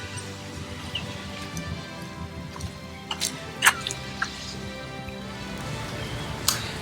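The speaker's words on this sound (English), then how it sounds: "We hit a little island rain shower." Drips from an island rain shower on Dauphin Island tick and patter irregularly over a soft, steady wash of rain, with a few sharper drops standing out.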